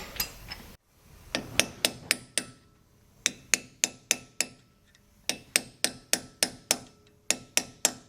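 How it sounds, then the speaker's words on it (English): A hammer striking a cold chisel set against the axle nut of a 1997 Land Rover Defender 90, in three bursts of rapid, evenly spaced metallic blows, close and crisp, with brief pauses between the bursts. "now we've got it to the point we can get behind it with a cold chisel"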